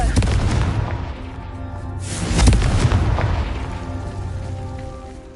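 In the video game Hogwarts Legacy, a Confringo spell goes off as a heavy explosive boom midway through, swelling out of a dense, continuous rumble of game sound.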